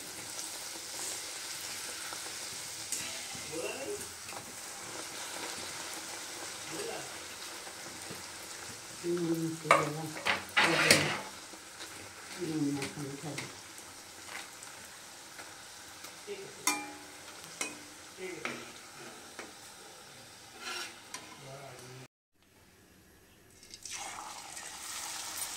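Luchi frying and puffing up in hot oil, a steady crackling sizzle with louder bubbling bursts and occasional clinks of a utensil, no voices.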